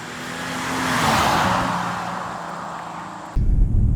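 A 2018 Jaguar XF Sportbrake S AWD's engine and road noise swell and fade as it drives along in traffic, with a passing vehicle whooshing by before an abrupt shift to louder cabin rumble.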